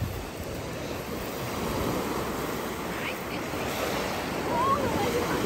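Waves wash onto a pebbly Mediterranean beach at Cinque Terre, Italy, a steady close hiss and rumble of surf with wind buffeting the microphone throughout.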